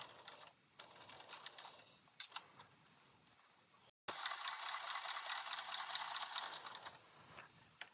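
A sewing machine stitches along a line, its needle running in quiet bursts and then a longer, louder continuous whir, close up.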